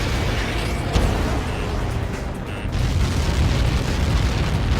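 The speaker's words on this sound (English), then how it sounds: "How many got caught in that explosion?" In the Ace Combat 7 video game, a Helios projectile impact sets off a massive explosion, heard as a dense, loud roaring rumble that runs the full length with a brief swell partway through.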